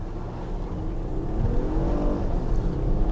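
An Infiniti QX60 accelerates at full throttle on a closed snowy test track, its engine note rising and climbing in pitch as it pulls, a loud, steady roar throughout.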